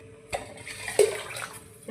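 Water is poured into a pot of rice for veg biryani, a short splashing pour with a couple of small clinks, fairly close and moderately quiet.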